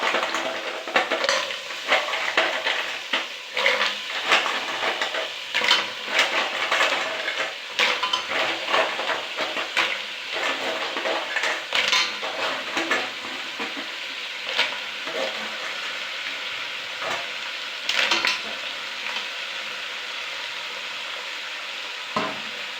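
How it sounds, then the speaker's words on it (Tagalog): Mussel tinola soup being stirred in a pot, with repeated scraping and clinking of a utensil against the pot over a steady sizzling, bubbling background. The sound is continuous and moderately close, with no talking. "Haluin lang po natin, tapos paksa natin ang konti."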